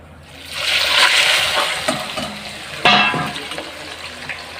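Bitter gourds dropped into hot oil in a kadhai, a loud hissing sizzle that swells as they go in, with clattering surges and splashes, then settles into steady crackling.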